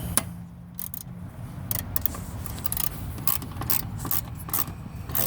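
A hand ratchet tightens a 10mm bolt on a bracket on a 2001 Dodge Durango, giving a run of quick, close clicking ratchet strokes with short pauses between bursts.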